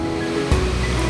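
Ocean surf at Indrayanti beach in Gunungkidul, Yogyakarta: a steady, full wash of breaking waves with a brief surge about halfway through, heard alone at moderate loudness.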